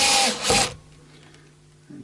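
Electric screwdriver on its lowest torque setting drives a screw into a guitar, giving a loud buzzing whir for about three quarters of a second, then a faint low hum and a brief second burst at the end.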